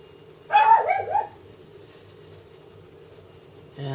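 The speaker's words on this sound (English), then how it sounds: "And that is my dog in the background." A dog gives a short burst of barks, fairly close, then the room falls quiet apart from a low hum.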